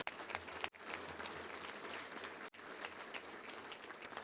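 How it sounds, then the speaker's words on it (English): Quiet, steady audience applause at a Little Rock Touchdown Club luncheon, an even wash of many hands clapping from a distance with two brief cuts. "Let's give a round of applause to all of our great sponsors."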